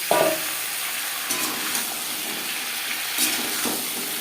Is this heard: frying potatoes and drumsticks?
yes